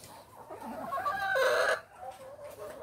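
Laying hens in a chicken barn, clucking and calling close by, with one drawn-out rising call standing out over a busy flock murmur.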